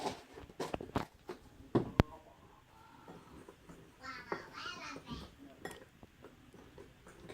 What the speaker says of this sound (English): Kids in the background making lots of noise.